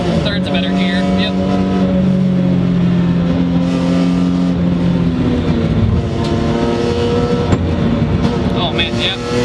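A BMW E46 M3 engine pulls hard on a race track, a loud steady drone rising and shifting as it climbs through the gears, with a voice talking over it.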